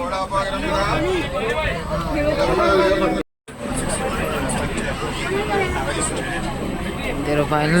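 Busy crowd hubbub on a Ratnagiri railway station platform as a train arrives, with dense overlapping voices and steady background din throughout, briefly cut off midway.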